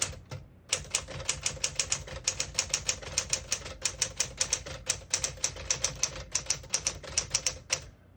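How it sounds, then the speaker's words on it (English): A 1963 Smith-Corona Sterling portable typewriter types a sentence in red ribbon ink, its keys striking in a quick, steady run of crisp close-up clacks with brief pauses between words and no talking. "I'll type a sentence in red on the next line"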